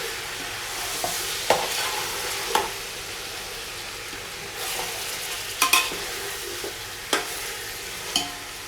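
Chicken pieces tossed with salt and turmeric in a pot, a low sizzle broken by repeated spoon scrapes and clacks at an uneven rhythm, close by with no talking.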